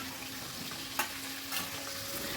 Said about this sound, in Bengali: হাই ফ্লেমেই রেখেছি, অনবরত নাড়াচাড়া করে এটাকে আমি একটু ফ্রাই করে নিচ্ছি।